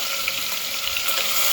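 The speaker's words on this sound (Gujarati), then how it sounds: "હવે આપણે એમાં વટાણા નાખી દઈશું." Peas tipped into a hot frying pan for masala khichdi set off a loud, continuous sizzle that stays even through a brief burst.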